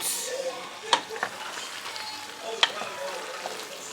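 Cheese being mixed into chicken and broccoli pasta in a pot on an electric stove, soft stirring and faint sizzle with a couple of sharp utensil clinks against the pot, fairly quiet and close.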